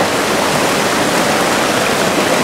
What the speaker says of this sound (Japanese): 道の駅の横を流れる利根川です